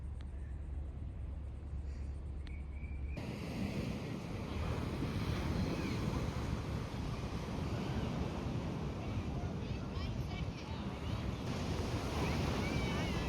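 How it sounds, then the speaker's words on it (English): Ocean surf breaks and washes continuously at a beach where people are surfing, a broad steady roar mixed with gusty wind buffeting the microphone, loud and close throughout. "looks like there's some smaller green waves going on"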